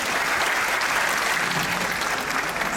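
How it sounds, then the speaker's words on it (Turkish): Steady crowd applause for the Diyarbakır folk dance team at an adult education centre's end-of-year finale night of folk songs, an even wash of clapping throughout. "O halde alkışlar Diyarbakır halk oyunları ekibimiz için."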